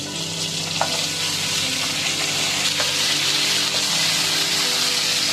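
Potatoes and radish fry in a pan with onions and chillies, a steady loud sizzle broken by occasional scraping clinks of a spatula stirring, heard close with no voices.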